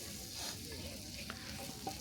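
Moong dal frying and being stirred in a pan, with a steady close sizzle and scraping stirs throughout, plus a couple of brief clinks.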